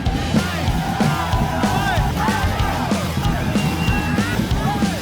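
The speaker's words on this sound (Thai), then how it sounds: "ตะโกนเชียร์กันดังมาก" A large crowd of football fans at a stadium yelling and cheering continuously, loud and dense, with individual shouts and whoops rising above the roar.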